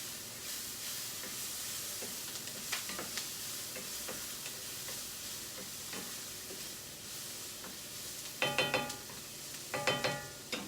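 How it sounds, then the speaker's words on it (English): Onions caramelize in a pan for mushroom stroganoff, a low, steady sizzle with scattered scrapes of stirring, followed by a few sharper clattering bursts near the end. "Gonna stir the onions."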